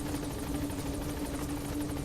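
A helicopter in Metal Gear Solid V: The Phantom Pain hovers with a steady rotor drone and buzzing hum, constant and fairly close, with no voices.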